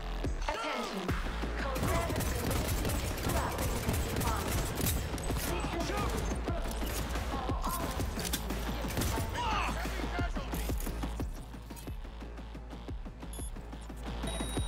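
Rapid pistol gunfire in Cyberpunk 2077, dense bursts of shots and clattering mechanisms over loud combat noise, with a voice speaking now and then.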